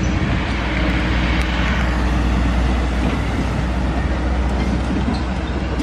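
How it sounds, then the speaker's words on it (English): A loud, steady rumble of a small tourist train rolling past close by near Sorrento on the Amalfi Coast, broadband and continuous, with no talk over it. "Oh, here comes a little train."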